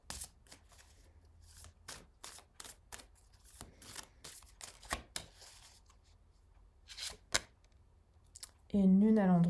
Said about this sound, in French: Je vais repasser ces deux cartes.